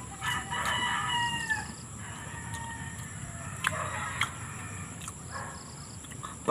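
A rooster crows twice, fairly near, over a steady outdoor hum, with hens clucking softly in between.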